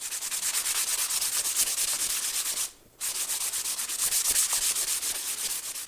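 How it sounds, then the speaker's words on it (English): Hand sanding a small wooden woodworking project with 320 grit sandpaper, a close rhythmic scratchy rubbing in quick back-and-forth strokes, pausing briefly midway before resuming steadily. "This is already pretty smooth, so I'm using 320 grit here. I'll run through this, doing this sanding"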